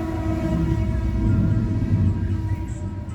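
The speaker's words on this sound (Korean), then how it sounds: "어제 기차가 좀 많이 연착을 해가지고 지금도 달리고 있습니다." An Indian sleeper train running in the morning after a long delay, a steady, continuous low rumble of wheels and carriage noise filling the compartment without pause.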